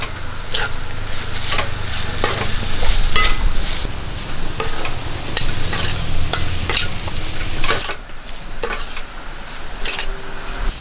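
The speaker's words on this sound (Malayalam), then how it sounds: "നമ്മൾ ചതച്ചെടുത്ത കാന്താരി ചുവന്നുള്ളി നമുക്ക് ഇതിലേക്ക് ഇട്ട് കൊടുക്കാം ഇനി ഇത് ഇളക്കി കൊടുക്കാം" Crushed bird's-eye chilies and shallots fry loudly in a pan, stirred with repeated scraping and clinking strokes of a metal spoon against the pan over a continuous close sizzle.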